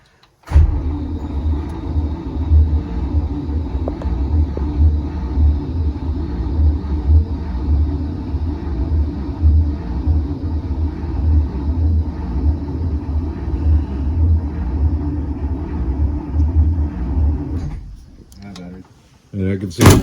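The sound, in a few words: 1941 Cadillac engine cranking, not starting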